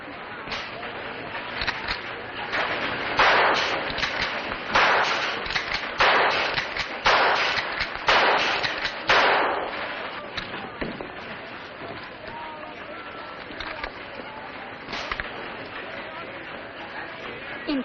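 Gunshots at a shooting contest in 1952 Texas: a run of sharp, moderately distant cracks comes in quick succession through the middle, then thins to scattered shots over a faint background.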